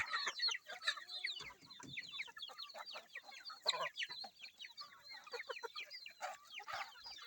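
Several native chickens clucking and squawking nearby in a busy, overlapping chorus with no talking.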